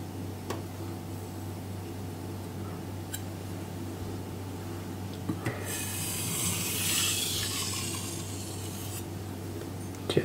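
A carbon steel blade rubs on a King whetstone in a few alternating strokes, soft rasping scrapes that grow a bit stronger midway over a faint steady hum.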